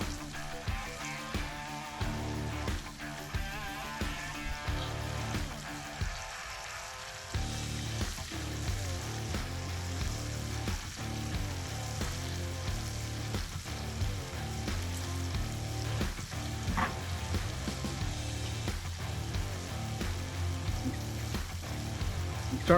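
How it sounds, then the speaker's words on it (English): Meat pieces fry in hot grease with a continuous, even sizzle that dips briefly once and then carries on steadily at a moderate level. "These are cooking a little slower than I want them to cook."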